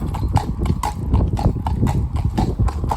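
A horse named Tonto walks with steady, even hoof clip-clops, loud and close, continuing throughout with no voices.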